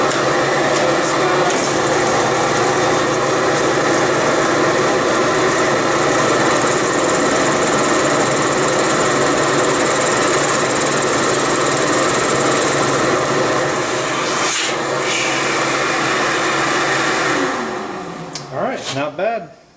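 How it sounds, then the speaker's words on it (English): A shop vac feeding a dust collection system with a dust separator runs loud and steady as a drill press is tested, then winds down near the end. "Okay, so let's test out the drill press here. Open the blast gate up,"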